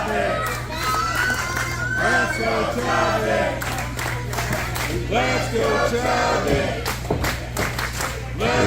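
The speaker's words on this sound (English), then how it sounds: "Let's go Chubby chants echoing throughout the arena here." Wrestling arena crowd chanting "Let's go Chubby" in a steady rhythmic call, voices echoing with cheers and scattered clapping, a commentator talking over the chant.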